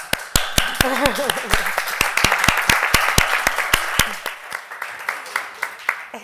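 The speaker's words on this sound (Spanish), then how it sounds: "Luego le damos un aplauso." A small group claps in a steady rhythm, sharp individual claps close by, with a voice briefly speaking over it early on.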